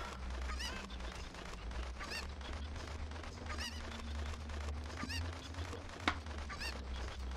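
Chickens clucking in the Fire Temple of Ocarina of Time, a rapid, busy stream of game clucks and squawks over a steady low music drone, with one sharp peak near the end.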